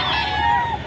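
Fowl at a livestock market in Padre Garcia call in a brief, honking cry held for under a second over a busy background.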